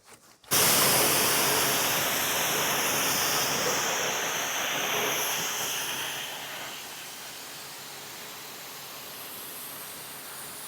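Low-pressure water spray washing the engine room of a Toyota Qualis, a steady close hiss that starts abruptly, then eases slightly and carries on evenly to the end.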